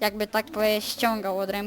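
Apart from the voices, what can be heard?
No distinct noise like a dog, phone or traffic.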